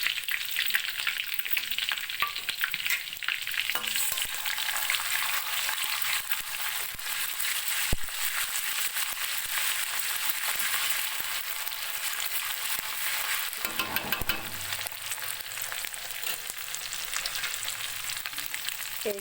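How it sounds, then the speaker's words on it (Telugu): Ginger garlic paste with salt and chili powder frying in hot oil for tomato rice gives a loud, continuous sizzle that stays steady throughout, with faint stirring scrapes now and then and no talk. "పేస్ట్ సాల్ట్ కారం ఇవన్నీ ఆయిల్లో ఫ్రై అవ్వాలి"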